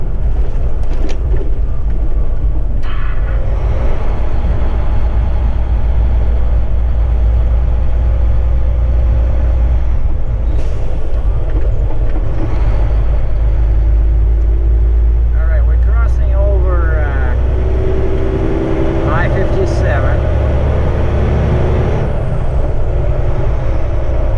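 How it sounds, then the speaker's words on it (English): A heavy haul truck engine drones loud and close through an open cab window, a constant low rumble with road noise, a few brief hissing bursts and passing traffic sounds throughout. "I'm gonna open my right window so you guys can hear the din of the engine."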